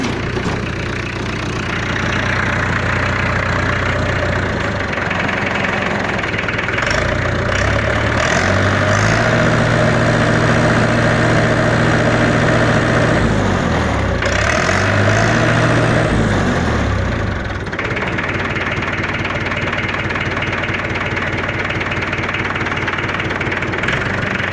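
A Zetor 7745 Turbo tractor diesel engine idles steadily nearby, a loud low rumble with a slight knock that dips and swells briefly midway, with no speech.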